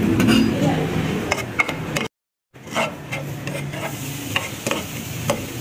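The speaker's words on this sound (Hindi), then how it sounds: "अब हम फ्राई पैन में ऐड करेंगे 2 टेबलस्पून ऑयल और उसके बाद हम ऐड करेंगे अदरक और लहसुन का पेस्ट।" Ginger-garlic paste fries in two tablespoons of oil in a frying pan, with close scraping stirring strokes over a low sizzle and a brief silent break midway.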